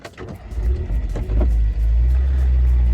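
A 1970 Citroen DS engine cranks briefly, then catches and settles into a loud, steady, deep rumbling idle close by, with no talking.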